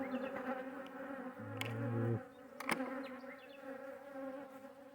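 Steady buzzing of honeybees hums close by throughout, with a few brief knocks and clicks breaking through partway.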